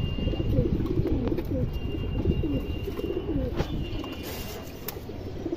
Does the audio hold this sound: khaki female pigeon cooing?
yes